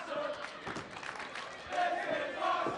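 A wrestling crowd at a WFX Overload #8 women's match reacts with a steady, fairly distant murmur and scattered shouts.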